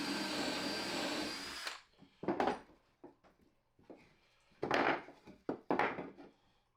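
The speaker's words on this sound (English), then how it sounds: "Pre-drill those right through with the 3/8 drill bit, then pre-drill the top of the frame parts." A power drill with a 3/8 bit bores through 2x4 wood, a loud sustained whine at first, then several short bursts of drilling separated by quiet pauses.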